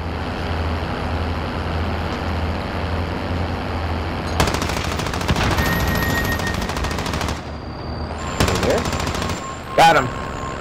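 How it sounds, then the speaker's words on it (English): Gunfire in an online shooter game: sustained bursts of automatic fire in long stretches, loud and close, over a low engine-like rumble, with a sharp final burst near the end. "Or I'm getting shot at."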